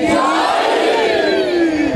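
A large crowd at a religious gathering in Gojra Sharif shouts back in answer to a slogan: one loud, sustained unison chant that slowly falls in pitch.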